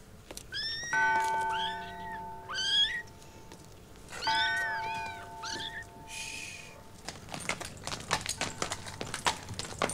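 Kittens meow repeatedly in high, wavering cries from inside a pillowcase in a 1976 period drama, in bursts over a steady held tone, followed by a run of sharp clattering knocks.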